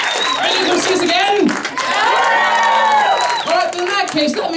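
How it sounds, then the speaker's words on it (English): A live circus audience bursts into loud applause and cheering with whoops and shouts, a dense crowd roar sustained for several seconds, with a presenter's voice over it at the start and end. "by show of applause from those people specifically"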